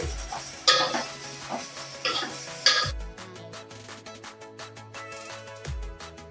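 A spoon stirring vegetables for sambar in a pot, giving sharp metallic scrapes and clinks along with a soft ongoing sizzle, close and clear.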